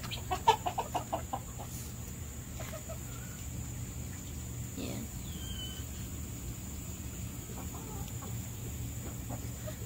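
Americana and bantam chickens cluck near a backyard poultry pen, opening with a short rapid run of sharp clucks, then scattered quieter clucks and calls over a low steady background hum.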